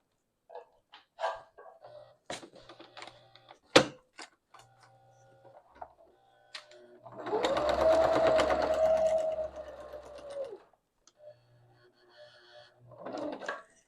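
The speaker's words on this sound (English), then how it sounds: "I have it on straight stitch. Yep. And I'm just gonna sew around it and you can watch." A sewing machine set to straight stitch sews around paper scraps for an art journal, running in one close, steady burst of about three seconds. Scattered clicks and handling noises come before and after it.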